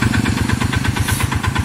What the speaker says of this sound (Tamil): டீசல் வண்டினால ஒரு சவுண்ட் ரொம்ப இருக்கும்